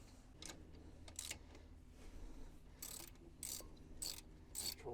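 A 12 mm ratchet tightens a caliper bolt on a Brembo brake fitted to an RSX Type S, giving a few bursts of quick clicking, close and moderately loud over a low steady hum.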